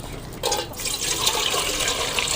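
Water gushes and splashes steadily into a cooking pot on a village stove, starting abruptly and continuing at a full, close rush.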